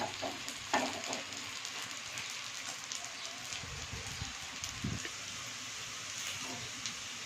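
Sweet potato paniyaram coated in maida batter sizzles in a pan, a steady dense crackling fry throughout with occasional stirring or turning noises.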